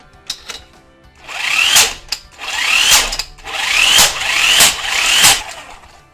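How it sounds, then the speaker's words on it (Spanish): An electric impact gun tightening a screw, with four or five close, loud bursts of rapid rattling hammering broken by short pauses, and no talk. "Fijaros en cómo con cada golpe la pistola aprieta más el tornillo"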